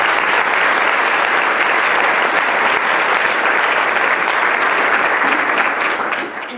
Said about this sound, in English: Please help me in giving Marge and Tina a well-deserved round of applause.